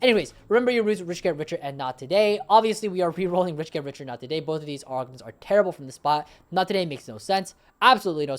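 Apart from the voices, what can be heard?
None of the usual background noises is heard.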